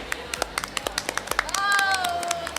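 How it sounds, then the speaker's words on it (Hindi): Children clapping for themselves after dancing, a string of sharp, evenly spaced claps close by, with a whistle-like tone sliding in midway. "चलो अपने लिए तालियां बजा दो।"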